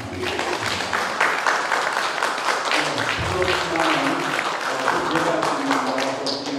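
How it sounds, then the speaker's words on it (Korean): Congregation applauding inside a church during Sunday Mass, a steady dense clapping that fills the room for several seconds, with voices mixed in. "우리 본당 신부님한테 감사 박수 한번"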